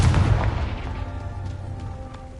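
A Confringo spell explosion from the video game Hogwarts Legacy: a loud, deep booming blast at the start that rolls into a decaying rumble with tonal ringing, no voices over it.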